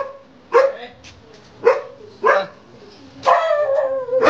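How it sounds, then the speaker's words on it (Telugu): Dogs at a house entrance bark close by in loud, separate bursts, about five sharp barks spread unevenly over a few seconds with quiet gaps between them. "కుక్కలు ఉంటాయి అలా"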